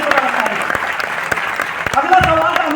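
Audience clapping at a success celebration event, a dense burst of many hands applauding through the whole stretch, fairly loud, with some voices mixed in.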